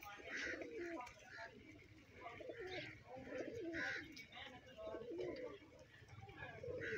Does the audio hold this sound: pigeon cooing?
yes